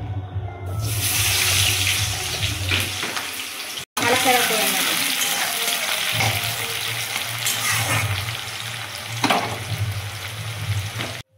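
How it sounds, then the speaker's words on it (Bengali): Onions sizzle and crackle steadily in hot oil, close and continuous, with occasional stirring sounds and a low hum underneath. "পেঁয়াজটা আমার অনেকটাই ভাজা ভাজা হয়ে গেছে।"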